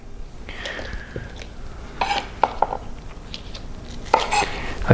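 A knife trimming onions on a cutting board in a home kitchen, a few sharp, irregular taps and knocks spaced over several seconds against quiet room noise.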